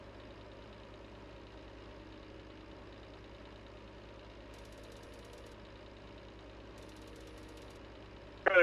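A Renault tractor in Farming Simulator 19 labors under a heavy load, its engine knocking and droning steadily at a constant low rumble, with a brief louder burst at the very end.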